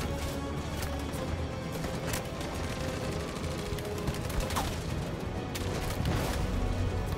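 Covering fire in a Detroit: Become Human gunfight: sustained rapid gunshots crackle continuously, loud and close, layered over a dense battle din with a few sharper cracks standing out.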